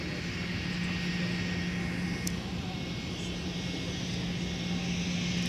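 A Delta Endeavor 717 airliner takes off from runway 17 at Minneapolis–Saint Paul airport, giving a continuous, even engine roar with a steady low hum that stays constant throughout, heard at a moderate distance without voices.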